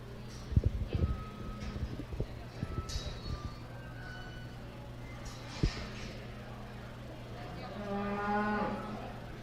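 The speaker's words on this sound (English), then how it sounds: "Nice cow-calf pair there, shown by Delaney Yates." Cattle at a county fair cattle show bellow with several low moos, one close and loud, others more distant, against a crowd murmur and faint announcer-like voices in the background.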